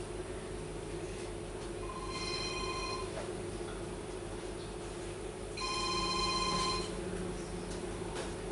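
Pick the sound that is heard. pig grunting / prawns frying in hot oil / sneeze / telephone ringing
telephone ringing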